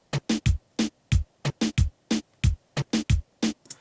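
A reggaeton drum pattern with an accent snare plays crisp, dry hits over deep kick thumps in a bouncy, syncopated rhythm, close and unaccompanied by voices.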